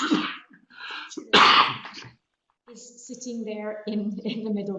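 A person talks, then one sudden, sharp sneeze bursts out loudly before the speaking resumes.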